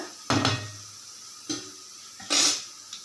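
Dal frying in hot oil in a pan for upma: a soft, steady sizzle broken by a few clinks and scrapes of a spoon against the pan.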